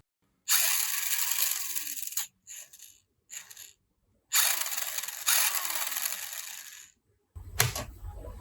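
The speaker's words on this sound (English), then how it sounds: "Let's plug the battery in and see if the motor can still run well." Small electric motor of a vintage RC buggy, rewired with modern electronics, whirring in two long bursts of a few seconds each with short blips between, fairly loud and close, no talking.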